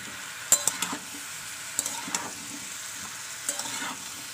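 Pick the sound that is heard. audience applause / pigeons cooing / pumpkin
pumpkin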